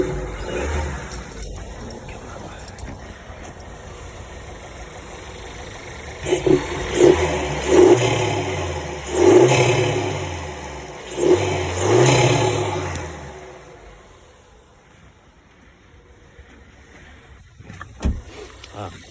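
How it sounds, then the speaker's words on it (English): Volkswagen Golf Mk7 TSI engine with an MST induction kit revs several times in quick succession, each rise and fall followed by a turbo flutter, over a steady idle that fades out toward the end. "You can hear the turbo flutter through there."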